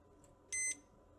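A multimeter in diode-test mode gives one short, clear electronic beep while probing a diode on a Trojan treadmill control board, heard alone against a quiet background.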